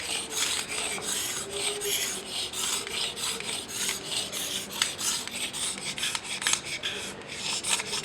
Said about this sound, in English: I'm just trying to scrape off that top layer.